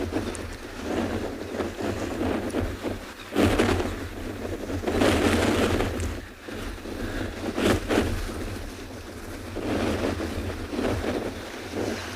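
Ocean surge washing back and forth over a penguin beach, with broad surging water and gusty wind buffeting the microphone in steady waves, no voices.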